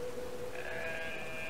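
A sheep in the video game Brothers: A Tale of Two Sons bleats in a single drawn-out call, moderately loud over a steady ambient game background, with no talking.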